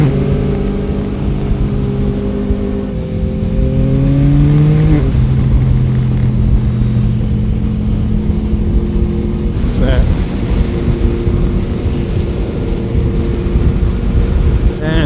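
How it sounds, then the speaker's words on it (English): A loud Yamaha MT-09 SP motorcycle engine drones steadily and revs nearby on the ride to a large bike meet, with the engine tone rising and shifting throughout, and people talk over it. "that bike's loud, man"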